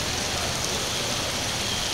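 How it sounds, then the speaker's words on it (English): Steady, even hiss of light rain beginning to fall at the Indian River Inlet, Delaware, a soft uniform patter with no distinct drops standing out. "It's starting to sprinkle"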